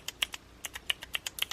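Small plastic keys on a keyboard fidget keychain toy click in quick, irregular taps, about a dozen crisp clacks in under two seconds, close and fairly quiet with no one talking.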